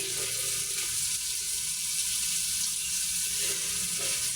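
Spices sizzle hard in hot oil in a pan for taro dal with rohu fish head: a loud, dense, continuous frying hiss, close up and without any talk.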